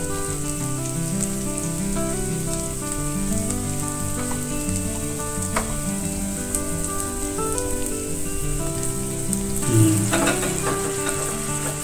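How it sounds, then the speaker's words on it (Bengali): Onions and tomatoes fried with turmeric, Kashmiri chili powder and garam masala for a hotel-style paneer butter masala gravy, crackling in a pan as a continuous nearby sizzle, with a brief louder burst near the end, no voices. "অনিয়ন টমেটোগুলো আমার ভালো করে ভাজা হয়ে গেছে। এর উপরে এখন আমি turmeric powder, Kashmiri chilli powder আর গরম মশলা অ্যাড করে দেবো।"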